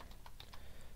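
Quiet, close keystrokes on a computer keyboard, a quick irregular run of light clicks with no speech.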